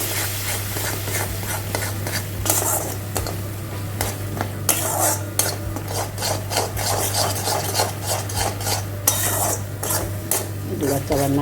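A spoon stirs curry gravy in a pan, scraping and rasping steadily against the metal with irregular clinks, close and fairly loud over a low steady hum.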